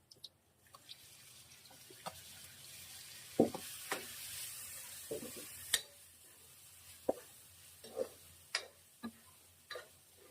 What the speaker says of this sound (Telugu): ఇప్పుడు ఇందులో టమాటాలు వేసి ఫ్రై చేయాలి